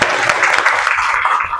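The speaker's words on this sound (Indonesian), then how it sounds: "beri tepuk tangan dulu" A class of students applauds in a classroom during an Indonesian mathematics lesson, a steady dense crackle of many hands clapping together that holds evenly, then thins slightly toward the end.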